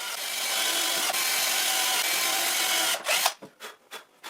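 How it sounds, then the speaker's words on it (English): A power drill whines steadily as it bores guide holes into the wooden rails of a sawhorse for about three seconds, then cuts off into a few short bursts. "I drill guide holes."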